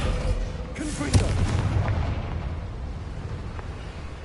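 A Confringo fire spell in Hogwarts Legacy bursts with a booming explosion just past one second, then rumbles and crackles away over low game ambience.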